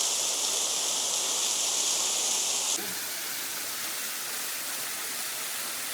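Cold water flowing steadily along a hiking trail, a loud broadband rush that drops abruptly to a softer, more distant wash partway through, with no other sounds present.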